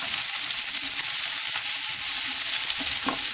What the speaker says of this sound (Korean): 썬 양파와 마늘을 수정유가 올라간 프라이팬 위에 올리고 잘 볶아줍니다.